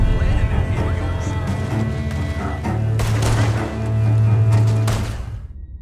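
Gunfire in the Red Dead Redemption 2 video game: a close burst of several sharp shots with crashing impacts, set against a steady low rumble of game audio and music.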